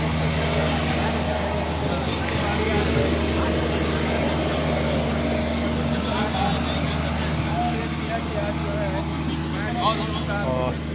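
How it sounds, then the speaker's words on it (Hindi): A grass mower machine driving across the turf of JCS stadium in Jharkhand gives a steady engine drone with a constant low hum, heard continuously at moderate loudness. "ये ग्रास मूवर मशीन है, गाड़ी है"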